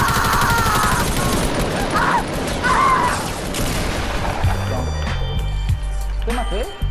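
Rapid bursts of Fortnite gunfire crackle amid mechanical clatter while voices talk over the action.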